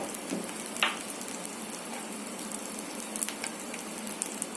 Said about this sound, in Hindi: मैं इसको हल्की सी आंच पे फ्राई करूंगी